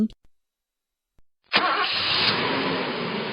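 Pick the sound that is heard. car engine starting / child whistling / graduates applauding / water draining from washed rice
car engine starting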